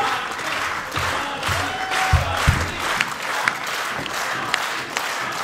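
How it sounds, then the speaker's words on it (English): Sustained applause and cheering from the crowd at a women's wrestling match, with a steady wash of clapping broken by a few sharper shouts and claps throughout. "Crowd seems to be really behind Shotzi, though"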